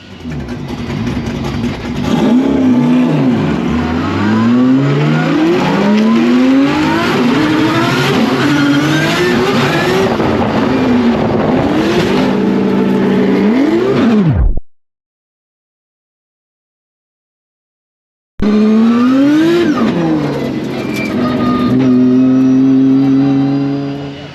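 Drift cars at an RD Hi Tec drift event roar loudly with sweeping revs and squealing tires through a corner-entry collision, the engine noise cutting out briefly before resuming at full volume.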